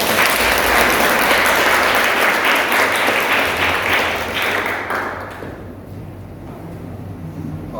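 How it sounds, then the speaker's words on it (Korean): A church congregation in Bali gives a blessing round of applause for the Vision House children, a loud, dense wash of clapping that holds for about five seconds before fading to a quieter room. "우리 비전하우스 아이들을 축복하면서 축복의 박수 한번 주겠습니다"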